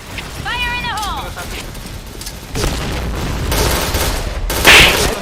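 Grenade blasts and bursts of rapid gunfire from the online shooter game Point Blank, loud and dense, with a booming explosion near the end, under shouting voices.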